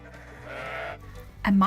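A sheep on a farm lets out a short, loud bleat at the very end, following a softer lead-in.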